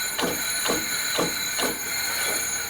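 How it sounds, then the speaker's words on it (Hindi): Crankshaft grinding machine working a Tata Intra V30 engine crank in a workshop, a steady high hiss with four evenly spaced rhythmic whooshing sweeps as the crank turns, no voices. "देखिए ये हमने मशीन चालू कर ली। अब ये हो रहा है ग्राइंड।"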